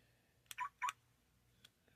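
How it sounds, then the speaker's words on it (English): A Mercedes-Maybach locking and unlocking makes two quick, faint electronic chirps close together, followed by a light click, all quiet and close. "That's the lock, unlock."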